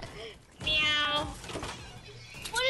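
A cat's meowing, repeated several times in quick succession, comes out loud and close over mixed background noise with some voices nearby.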